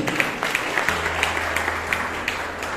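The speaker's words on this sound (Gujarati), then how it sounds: "તાળીઓથી વધાવીએ." An audience of teachers at a school's Atal Tinkering Lab inauguration breaks into scattered, steady hand-clapping, each clap distinct over a low background hum.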